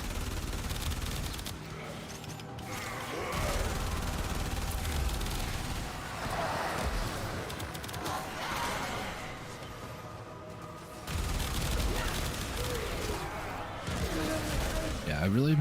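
Explosive area-of-effect weapon fire in the video game Warframe, a steady barrage of shots and blasts running throughout with a loud, dense mix.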